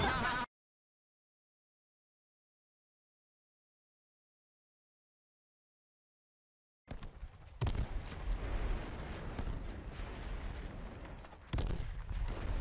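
After a long silence, a dense barrage of rapid gunfire and blasts from the video game H1Z1 erupts, loud and continuous, with a brief pause before another burst.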